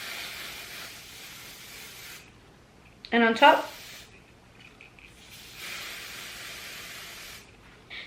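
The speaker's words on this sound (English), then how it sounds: "You want to start by spraying some hairspray onto this section" Hairspray misted from a can onto a section of hair while styling, a soft steady hiss running for a couple of seconds near the start and again later, with a brief clatter in between and quiet talk.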